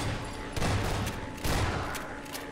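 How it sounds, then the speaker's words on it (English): Gunfire rattles in the video game Half-Life 2, two loud bursts of rapid shots over a steady noisy background, with no talk. "What's shooting at me?"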